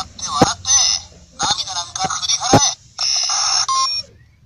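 A Go-Busters DX morpher toy in phone mode plays an electronic ringtone in short beeping, chirping bursts, loud and close.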